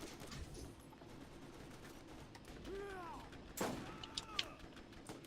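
Turret gunfire and explosions in Borderlands GOTY Edition: a few sharp bangs and blasts, loudest near the end, over a constant dense game background with whining, creaking mechanical sweeps.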